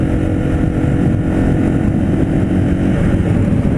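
A Zontes R310 motorcycle engine drones steadily and loudly while riding and downshifting with a slipper clutch. The rumble is dense and continuous, with wind buffeting under it and no clear separate rev changes.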